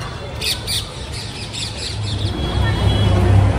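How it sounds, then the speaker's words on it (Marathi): Birds squawk and chirp in short bright bursts over a steady hum of street and traffic noise beneath a bridge in Sion, Mumbai, the calls clustered early and fading as the background swells. "आवाज बघा पक्ष्यांचा"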